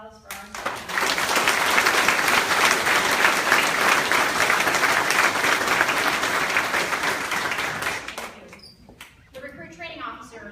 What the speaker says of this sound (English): How about a round of applause for our instructors?